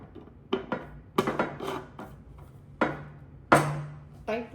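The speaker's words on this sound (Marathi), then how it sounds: "आणि आपण आता याला झाकण लावूया." A lid is placed on a glass jar of lemon peel pickle in a home kitchen, giving several sharp, close clinks and knocks at irregular intervals with quiet pauses between them.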